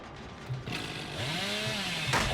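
The Hillbilly's chainsaw in the video game Dead by Daylight sputters, then revs up into a loud, rising, buzzing whine that holds steady close by.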